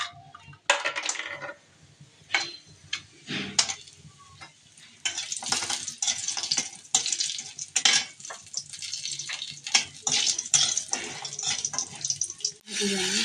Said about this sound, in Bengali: এদিকে আমি কুমড়ো বড়িগুলো ভেজে নেব।